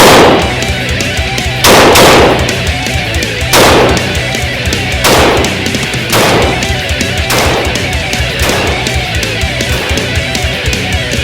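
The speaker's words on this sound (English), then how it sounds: "You ready to go shoot this thing?" SVD Dragunov rifle fired outdoors, with six loud, sharp shots spaced at steady intervals of about a second and a half, each one followed by a rolling echo and no talk.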